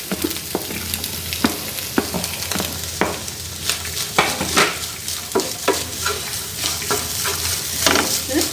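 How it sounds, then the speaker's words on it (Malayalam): Fried okra being stirred into cooked egg in a hot pan, a continuous sizzle broken by repeated sharp scrapes and taps of a spatula against the pan, close and loud. "ഇനി നമുക്കിതിലേക്ക് നമ്മുടെ വെണ്ടയ്ക്ക വറുത്ത് വെച്ചിരിക്കുന്നത് ചേർത്ത് കൊടുക്കാം"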